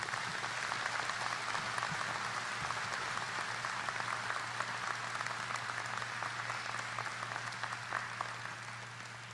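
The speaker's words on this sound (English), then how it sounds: "Please, let's give Keith Hovan another round of applause." Audience applause at a university graduate commencement ceremony, a steady, dense wash of clapping from a large crowd that fills the whole stretch at moderate distance and tapers slightly at the end.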